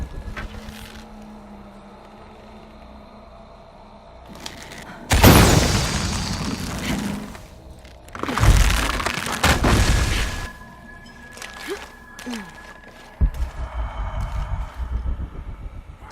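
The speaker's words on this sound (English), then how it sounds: "Have to create an explosion." Heavy explosions boom in the Shadow of the Tomb Raider video game: two big roaring blasts with rumbling debris, followed by another loud burst of crackling and rumble, over quieter ambient game sound.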